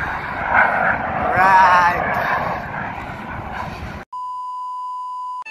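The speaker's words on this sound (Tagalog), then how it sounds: "May nagpa-practice na fighter jet." A fighter jet flying overhead during practice near Barwa Village, a broad roaring rumble that swells and fades over several seconds with a voice speaking briefly, then a steady electronic tone takes over after the roar cuts off.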